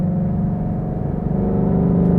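Loud, low exhaust drone from a nearby 2018-2023 Mustang GT with a Corsa 3" Xtreme cat-back exhaust in track mode, idling steadily, slightly building toward the end, with no talking.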